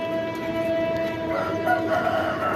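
A hen in a home pigeon loft calls loudly and persistently, a steady run of close, insistent clucking with a faint background hum.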